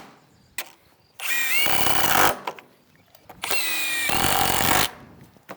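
A power drill drives screws into wooden door framing in two sustained whirring bursts of about a second each, separated by a short pause with light handling knocks, close and loud with no talking.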